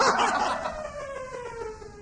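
Alsatian puppy giving a brief, faint high yip that trails into a whimpering whine, heard close and alone for about two seconds.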